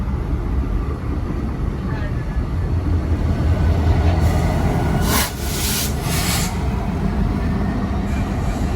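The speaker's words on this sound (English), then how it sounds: "it's the Burlington Northern Santa Fe. Looks like an train of automobile racks." A BNSF freight train hauling automobile rack cars rolls past on Canadian National track near Chicago, a steady heavy rumble with rattling wheel noise that stays loud throughout, with brief brighter hissing swells midway.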